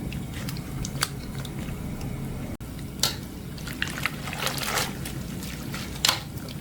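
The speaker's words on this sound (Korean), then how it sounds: "물이 보글보글 다시 끓기 시작하고" Water bubbles and pops in a pot blanching eomnamu shoots, with scattered crackles and small splashes over a steady low simmer.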